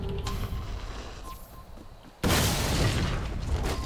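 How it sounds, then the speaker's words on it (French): A cannon explodes in the Assassin's Creed Unity video game, a sudden loud blast that cuts in abruptly partway through and gives way to a sustained, heavy rumbling roar after quieter game ambience. "vous faites sauter un des canons en fait"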